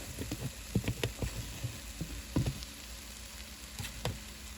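Two chopped onions go into a hot pan, and a faint, close sizzle with scattered crackling pops carries on with no one speaking.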